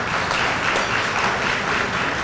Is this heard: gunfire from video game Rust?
no